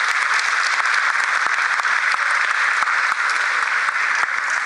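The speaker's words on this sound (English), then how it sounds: "welcome with a warm applause, Cedric Kremers, the country chair of Shell" Steady, dense applause from a large business meeting audience, loud and sustained throughout with no voices standing out.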